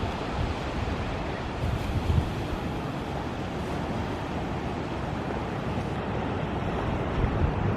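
Ocean surf at Carolina Beach at sunrise, a steady broadband wash of waves close by with wind buffeting the microphone and no clear breaks. No one speaks.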